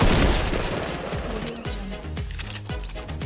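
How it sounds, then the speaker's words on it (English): Dense gunfire in the Fortnite battle royale game, a heavy opening burst followed by repeated shots from several directions, loud and close, with no voices. "Oh my gosh, we're getting shot from so many sides."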